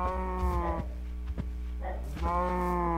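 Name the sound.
cow from a video game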